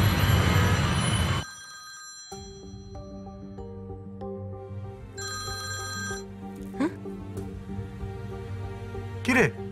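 A telephone rings in a Bengali film scene, its electronic tones repeating in steady, moderately loud bursts, with brief vocal sounds over the ringing.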